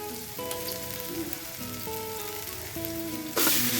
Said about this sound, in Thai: เราก็จะมาผัดกันเลยนะครับ